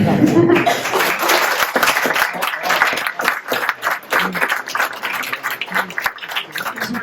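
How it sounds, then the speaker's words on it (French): Audience applause after a French talk on game creation at a gaming afterwork event, a dense steady clatter of many hands lasting throughout with voices mixed in. "Aux applaudissements"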